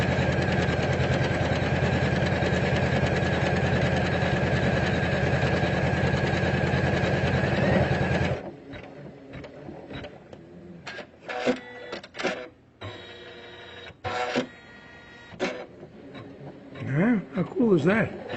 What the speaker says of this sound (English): I just want to watch this jump stitch.